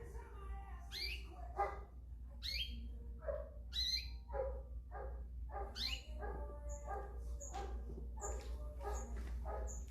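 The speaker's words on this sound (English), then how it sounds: "Woof, woof, woof. Bark, bark, bark." A dog barks in a series of short yips and woofs, with bird chirps mixed in, fairly faint over a steady low hum.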